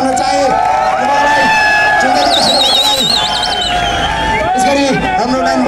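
A crowd at a street rally by gold and silver traders cheers and whoops in loud, dense hubbub, with a shrill whistle-like tone rising over the babble and voices throughout.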